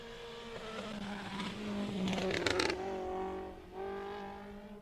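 Rankin BMW rally car at a special stage in Castle O'er, its throaty engine revving and accelerating loudly, with a brief tire squeal near the middle, then holding a steady drone before a short dip and renewed pull.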